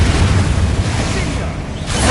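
Confringo spell explosion in the video game Hogwarts Legacy, a loud, close booming blast with a rumbling burst that decays over about two seconds, cast amid spoken spell incantations.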